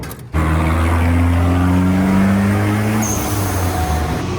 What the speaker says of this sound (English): I haven't heard the car before, but I think it sounds really good so far